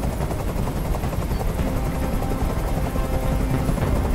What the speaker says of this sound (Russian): Как же меня бесит этот звук! Прикажи им, чтобы вертолет убрался!